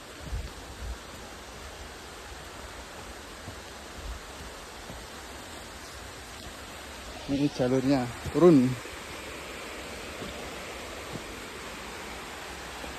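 A mountain waterfall at Studio Alam on Gunung Lawu, reached via Cemoro Kandang, runs strong in the rainy season, giving a steady broadband rush throughout. A voice speaks briefly midway over the water.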